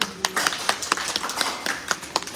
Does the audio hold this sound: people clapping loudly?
yes